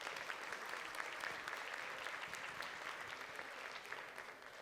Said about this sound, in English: We ask that you give them a round of applause and your full attention.